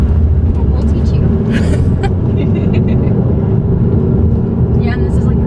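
A car travelling over a very rough road, its steady low rumble and road noise loud and continuous throughout, with brief rattles and thumps from the surface.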